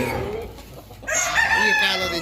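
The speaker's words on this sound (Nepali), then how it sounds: "लोकल भाले" A local rooster crows loudly and nearby in one long drawn-out call, preceded by softer clucking and farmyard murmur.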